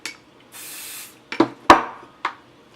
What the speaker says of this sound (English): Spray your spoolie with hairspray.